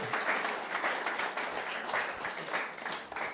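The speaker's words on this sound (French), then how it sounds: "Mais on applaudit le Seigneur pour lui" A church congregation applauding the Lord, a dense wash of many hands clapping in pulsing waves, steady and fairly close, without speech.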